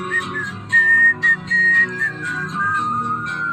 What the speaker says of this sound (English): why don't you try that whistling thing again?